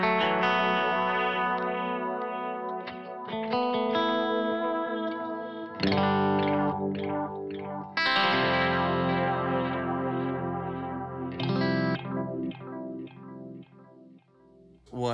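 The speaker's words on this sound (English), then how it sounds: "now the filter delay." Electric guitar played through a filter delay effect, sustained chords and picked notes smeared into swirling, sweeping echoes with a chorused, slightly distorted tone, loud and continuous without talk.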